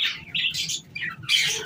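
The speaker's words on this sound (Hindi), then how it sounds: "दोनों ही तोते बैठे हैं" Green Australian parrots kept in a box cage squawk in a rapid series of loud, harsh, close calls with brief gaps between bursts, with no talking.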